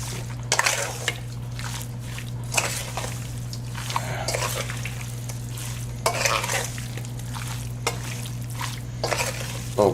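Spiced chicken for chilli chicken is mixed with cornflour by hand or spoon, giving wet squelching and clattering bursts close by over a steady low hum.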